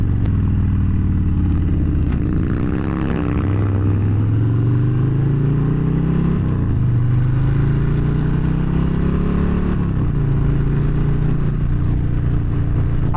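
A Harley-Davidson motorcycle revs and accelerates hard, its loud deep engine drone climbing in pitch through several gear-like rises and drops over a sustained close roar.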